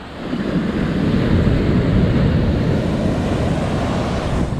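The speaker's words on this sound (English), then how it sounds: "There are high waves today." High ocean waves break continuously on Lamai Beach, Koh Samui, Thailand, a loud, dense roar of surf with wind buffeting the microphone and no voices.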